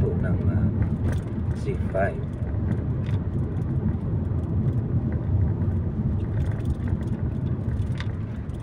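A car drives along a road toward a tunnel, its steady low engine and tyre rumble running throughout beneath someone talking.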